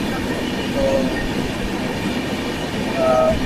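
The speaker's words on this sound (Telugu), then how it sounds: "2 మినిట్స్ హాల్ట్ తర్వాత మన ట్రైన్ అయితే మనకి స్టార్ట్ అయిపోయింది" The Navjeevan Superfast Express rolls steadily near Khammam, heard from inside with a continuous low rumble of wheels on rails and faint squeals on top.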